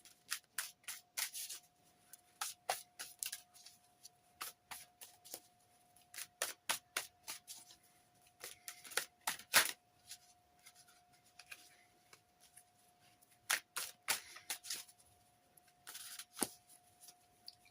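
Ghost Tarot cards shuffled and drawn by hand, a steady run of crisp papery riffles and flicks that come in bursts with short pauses, close and quiet, with no talking.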